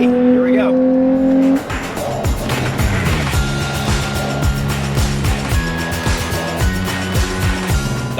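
Porsche Boxster mid-engine sports car driven fast around a track, engine note climbing and dropping through repeated gear changes, loud and close, with a driver speaking briefly at the start.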